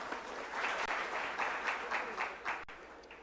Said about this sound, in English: Please give a round of applause to Shri M. Nagaraju.